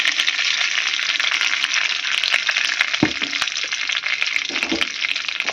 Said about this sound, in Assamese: এই কেৰাহীত যি এই মাংসৰ তেলখিনিৰ পৰাই যি তেল ওলছিল, সেই তেলেদি এতিয়া দালিখন চম্ভাৰ দিম ইয়াতে